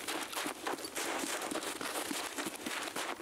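Bursts of gunfire from Escape from Tarkov crackle through the clip in irregular, rapid sharp reports, moderately loud over a noisy background.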